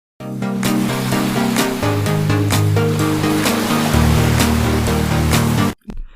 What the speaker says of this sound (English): It sounds better with the waves